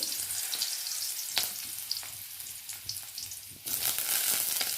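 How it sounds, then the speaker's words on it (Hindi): Potatoes frying in hot oil in a kadai give a close, steady sizzle with a few scraping stir sounds, swelling louder near the end, with no talking. "तो देखि पारथिबे आलू फ्राई चलीछि।"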